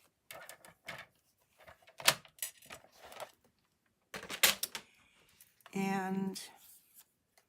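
Cardstock for a Stampin' Up card is cut with a paper trimmer in short scraping strokes and clicks, close by, among quiet handling noises, ending in one longer buzzing slide.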